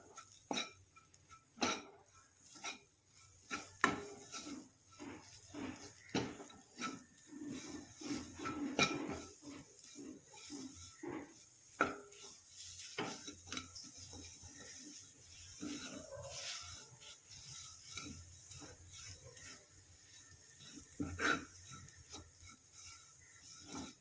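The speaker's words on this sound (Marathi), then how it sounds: "आता मी बेसन टाकते 2 चम्मच याच्यात. हे आपलं छान असं भाजून घ्यायचं आहे थोडा वेळ." Dry gram flour (besan) is stirred and roasted in a pan with a spoon, giving repeated scraping and rasping strokes in an irregular rhythm. The sound is close and moderately quiet, with no talk.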